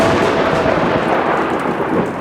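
Continuous dense storm noise of heavy rain with low thunder rumble, steady and loud throughout with no talking.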